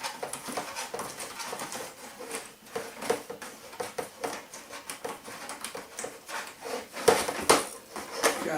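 Screws are turned out of a plastic Adventure Force Hyperspin rotating drum dart blaster toy, making close, scratchy creaking and rubbing sounds in uneven bursts with no speech.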